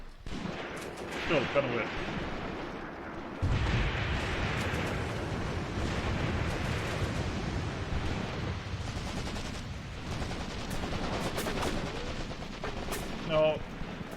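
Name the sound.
gunfire in the video game Graviteam Tactics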